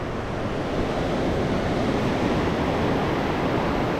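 Ocean surf washes steadily onto a beach at the northern end of Mazatlán, a continuous broadband roar with wind buffeting the microphone throughout and no distinct breaks between waves.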